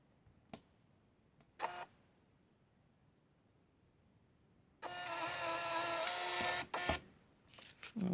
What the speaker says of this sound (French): on va l'imprimer là